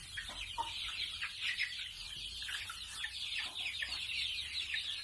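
Native village chicks about one month old, from Ban Haet in Khon Kaen, fill the air with overlapping shrill peeps and chirps, a continuous soft chorus with no talking.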